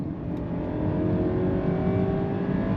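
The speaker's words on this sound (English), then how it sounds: "you're gonna have a lot of 4-cylinder engine sound" The four-cylinder engine of a 2025 Mercedes-Benz GLE 350 SUV drones steadily under acceleration, a buzzy, moderately loud whir that builds slightly in pitch, heard from inside the vehicle.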